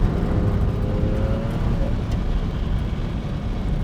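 A cheap used Mitsubishi 3000GT engine running with stock exhaust heard from inside the car, a steady low rumbling drone with some wind noise, continuous and fairly loud.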